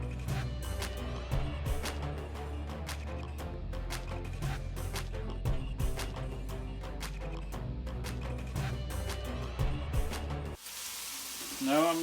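Half an onion sizzles in a frying pan for a mutton curry, a steady frying hiss with scattered crackles and pops running throughout, ending with a brief spattering burst.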